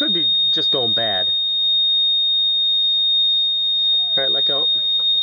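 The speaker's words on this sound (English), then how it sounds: "Yeah, that's a propane alarm." A propane alarm in a camper gives a steady, piercing high electronic tone that sounds continuously while people talk over it nearby.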